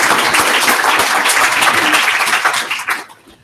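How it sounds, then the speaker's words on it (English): A school board meeting audience gives a round of applause, loud, dense clapping filling the room before trailing away quickly at the end. "So we would like to have a round of applause for Katie in case she's watching on TV."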